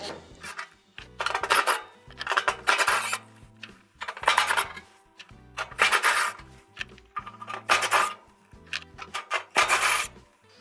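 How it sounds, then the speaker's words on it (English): On an Amana stove, old screws are backed out with a number 2 square bit, giving a series of bright scraping, grinding bursts. Roughly eight loud, closely spaced bursts are heard nearby, with brief pauses between them. "To get a good bite, I do highly recommend using a number 2 square bit."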